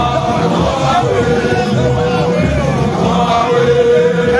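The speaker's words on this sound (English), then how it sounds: "I just want to show you the crowd." Dense crowd of youth league supporters at a rally in Liberia, a steady loud babble of many voices with occasional shouts, continuous throughout and close around the listener.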